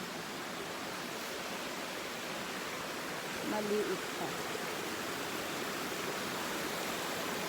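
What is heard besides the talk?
flowing stream water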